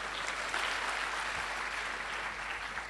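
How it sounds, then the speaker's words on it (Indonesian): Steady applause from a church congregation during a sermon, a dense, even wash of many hands clapping at a constant moderate level throughout, with no voices standing out. "Nah, beri tepuk tangan yang meriah buat Tuhan."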